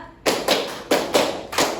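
Students in a classroom clapping game give five quick, loud hand claps in an even rhythm, clear and close with no voices over them.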